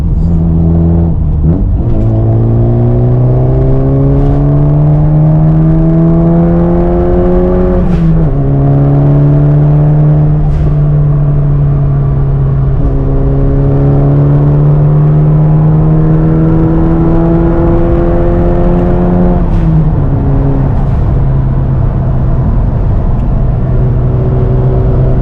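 A JDM car engine revs hard and climbs through several upshifts, its loud, close drone rising in pitch then dropping at each shift over about twenty-five seconds.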